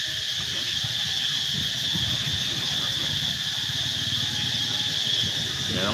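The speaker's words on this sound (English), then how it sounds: "The cicadas are really loud." Loud, steady cicada drone outdoors in Siem Reap, Cambodia, a dense high-pitched buzzing that holds unbroken throughout, with faint low rumble beneath.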